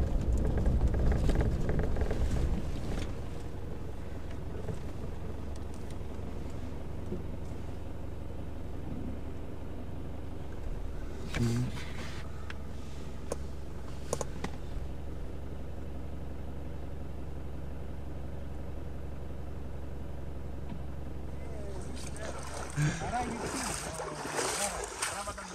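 A boat travels along a river with a steady low engine drone and water rushing and splashing around the hull. Voices talk over it at times, and louder splashes come near the start and the end.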